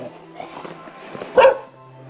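A dog barks in a short burst at a rural countryside house, one sharp loud yelp standing out against quiet outdoor background.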